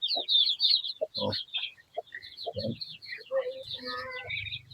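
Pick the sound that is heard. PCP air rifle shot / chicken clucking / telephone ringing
chicken clucking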